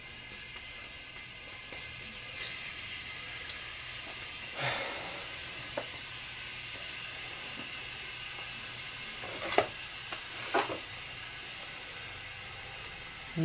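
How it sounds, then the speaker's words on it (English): Air hissing back into a vacuum chamber as the vacuum is released on an investment casting flask, a faint steady hiss with a few brief louder bursts of rushing air in the second half, no voices. "we're going to release the vacuum"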